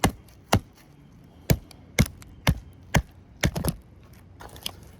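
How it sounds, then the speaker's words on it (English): Sharp hammer blows knocking a copper coil off a 1000 watt transformer set on its side, about ten hard metallic-woody strikes at an uneven pace, close and loud with quiet gaps between. "and then you just hammer that coil off"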